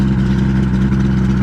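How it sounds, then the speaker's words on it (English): An old two-stroke outboard motor on a 1977 Starcraft boat idles with a steady, even low rumble, loud and close, with no speech over it. "She's running like an old two-stroke. Love the sound of the motor."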